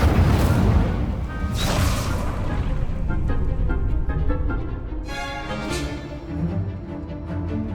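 A fiery Incendio spell burst in Hogwarts Legacy during spell practice: a loud whooshing blast followed by crackling rumble, with further magical bursts and low booms through the clip.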